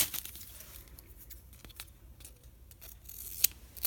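Quiet snipping of scissors, a few irregular cuts close by with faint rustling of paper between them.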